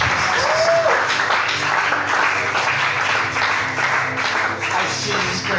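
A church congregation applauds in steady, dense clapping that fills the room, loud and continuous throughout, with a faint voice underneath.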